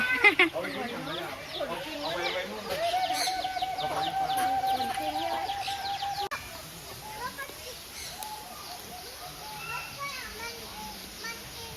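Chickens cluck and squawk in the background amid faint children's voices and talk, steady chatter-like calls continuing throughout.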